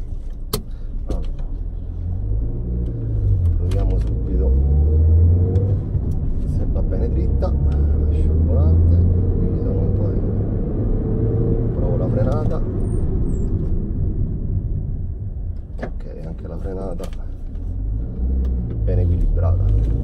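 A Mercedes A170 engine with chain-driven timing runs as a steady, quiet low rumble that holds evenly for about twenty seconds, with voices audible over it.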